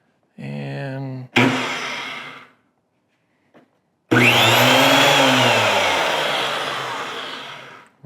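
A DeWalt DW733 benchtop planer fitted with a helical cutter head starts up with a loud, close motor whine that spins up, runs for a few seconds and winds down, after a brief earlier burst of the motor.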